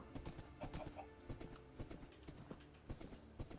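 Horse hooves in Minecraft clip-clop in a steady, quick rhythm while riding, soft and continuous for the whole stretch with no talking.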